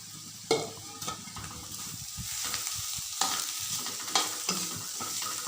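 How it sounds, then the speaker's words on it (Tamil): Mashed raw plantain being stirred and sautéed in a pan for plantain puttu, with steady sizzling under repeated sharp spatula scrapes and clacks, close and moderately loud, no talking. "சேர்த்து நல்லா லைட்டாக வதக்கி விட்டுக்கலாம்"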